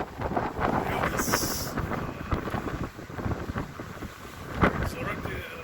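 Extreme Storm Eunice winds in Liverpool roar continuously, buffeting the microphone with heavy, rumbling gusts and brief sharp rattles.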